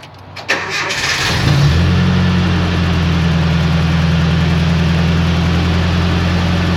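A green truck with a KA engine cranks with a few rapid whirring turns, then fires up and settles into a steady, close, droning idle that holds evenly to the end.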